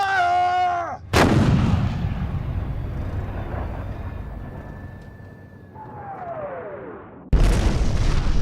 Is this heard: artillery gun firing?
yes